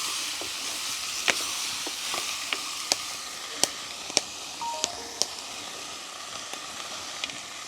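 About a kilo of shrimp curry frying in a pan, a constant bright sizzle and hiss while a spoon scrapes and clicks against the pan in scattered sharp taps, close up with no talking.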